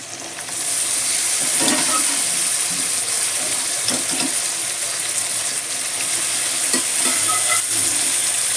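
Mutton with fenugreek leaves stirred and frying in a pan: a steady, close sizzle with scraping stir strokes, continuous throughout with no talking.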